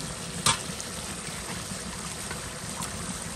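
Meat fries in hot oil with a steady, close sizzling hiss. One brief sharper crackle comes near the start and the frying continues evenly after it.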